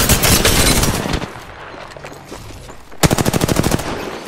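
Rapid automatic weapon fire from a gun in the Apex Legends battle royale game, a loud sustained burst at first, a quieter lull, then a second crisp burst of evenly spaced shots near the end.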